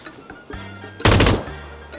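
Rapid automatic gunfire crackles loudly in a PUBG match, a short dense burst in the middle of the clip, with softer game sounds and low tones before and after.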